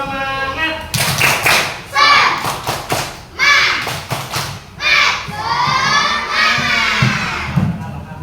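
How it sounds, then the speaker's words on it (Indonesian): A classroom of children performs a rhythmic spirit clapping chant, bursts of loud patterned claps alternating with shouted chanting voices, energetic and close, repeating in several waves. "tepuk semangat dulu yang keras biar semangat"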